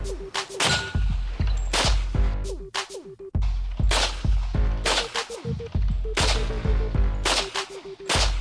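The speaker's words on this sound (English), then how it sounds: "In fact, Chris has never fired a gun before in his life." Guns firing at a shooting session, with about a dozen loud, sharp, close gunshots in an irregular rhythm, each with a booming low thump and a short ringing tail.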